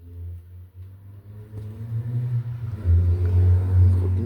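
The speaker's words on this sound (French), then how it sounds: "Une voiture qui passe." A car passes by outside a home, its low rumble swelling gradually from faint to loud and peaking near the end.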